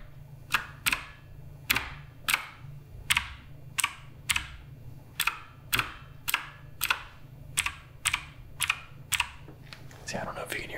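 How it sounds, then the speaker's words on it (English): Keystrokes rattle sharply on a Redragon K588 Broadsword mechanical keyboard with a metallic, springy ring, a steady series of roughly a dozen close, separate clacks over a low background hum. "there's a lot of metallic, almost spring sound in this board"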